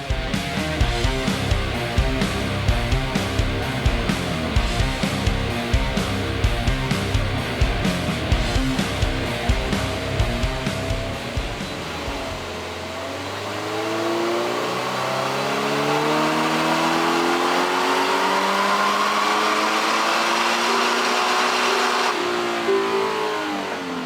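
Subaru BRZ with FA24 engine revving hard on a dyno for a baseline run, loud repeated rising engine pulses building through the gears, then easing into a steady droning whine as the run tapers off.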